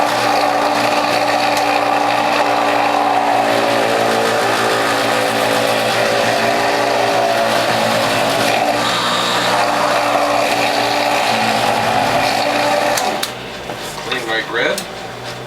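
A Whole Health Foundation juicer grinding turmeric root makes a steady, loud mechanical whirr with a dense tonal hum that continues evenly, then drops away near the end to quieter scraping and clatter.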